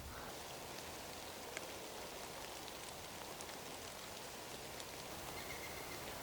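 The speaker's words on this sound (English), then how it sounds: "the rain's coming down now." Steady rain falls outdoors, a soft continuous hiss with occasional heavier drops, fairly faint and unbroken throughout.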